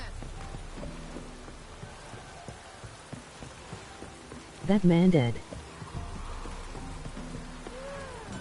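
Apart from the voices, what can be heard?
rain in the video game The Witcher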